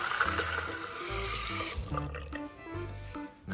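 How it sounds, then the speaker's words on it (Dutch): A jug filling with water from a tap, with a steady rush of running water that wavers and briefly dips near the end, close and alone with no talk. "Zo gaan we deze kan even vullen."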